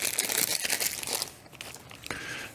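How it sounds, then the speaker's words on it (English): Plastic bags from a Neewer action camera accessory kit crinkle and rustle close up in quick handled bursts, then briefly go quieter before another crackle. "Alright, more plastic bags."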